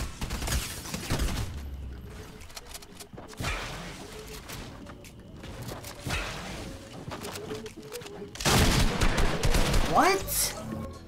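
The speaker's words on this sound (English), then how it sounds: "I hear shooting" Gunfire in the Fortnite Chapter 2 Season 8 video game, bursts of shots and sharp cracks spread across the clip, heaviest near the end, over a dense game soundscape with some talk mixed in.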